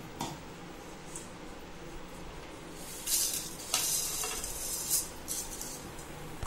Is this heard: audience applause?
no